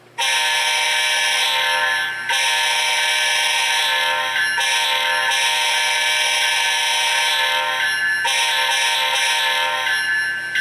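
A loud, sustained chime horn blares from an HO-scale ET44 GE Gevo model locomotive's LokSound decoder, holding long blasts with a few brief breaks, harsh and close.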